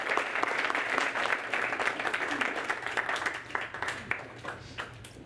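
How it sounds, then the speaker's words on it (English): Audience applause at a Longview city council meeting, steady clapping from a seated crowd that fills the room at moderate volume and slowly thins toward the end. "Once again, a round of applause for a wonderful,"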